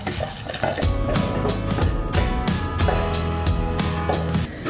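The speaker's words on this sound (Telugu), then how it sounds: "సో ఖజూర్ కూడా చక్కగా ఫ్రై అయిపోయింది." Dates (khajur) fry in a pan with a soft, steady sizzle, and a spoon scrapes and stirs in a repeated rhythm, close and clear with no talking.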